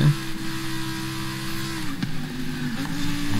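Steady car engine hum from a vehicle in the racing game Forza Horizon 5, a sustained low drone holding even in pitch with a slight rise in revs near the end, continuous and fairly loud with no voices.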